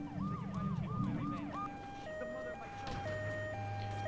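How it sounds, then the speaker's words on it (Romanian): Ambulance siren in the video game GTA III, a wailing electronic siren that sweeps up and down several times, then changes into a slower two-tone alternation, heard at close range under game sounds. "Uite o ambulanță, ne luă HP acum."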